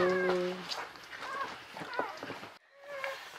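A newborn Czechoslovakian wolfdog puppy gives several thin, high, meow-like whimpers and squeals up close, with brief gaps and quiet stretches between cries and some soft voices nearby.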